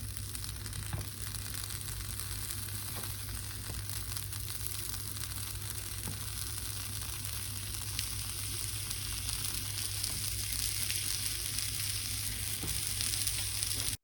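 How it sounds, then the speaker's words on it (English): Onion slices fry in a pan of vegetable and olive oil, giving a close, continuous bright sizzle with faint crackles and occasional stirring, steady throughout with no talk. "So we finished frying the onions"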